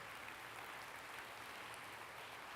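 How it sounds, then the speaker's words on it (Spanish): A church congregation claps together, a dense, even wash of applause that holds steady throughout without pauses. "Denle el aplauso al Señor."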